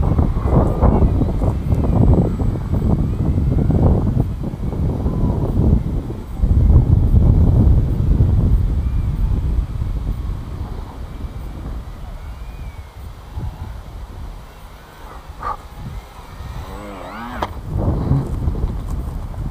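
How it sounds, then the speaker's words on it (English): Strong gusts blast across an outdoor microphone at a night flight of a Twisted Hobbies MXS-C model plane, a loud continuous low roar that surges and eases throughout, with brief higher tones near the end. "Whoa, that wind is ripping."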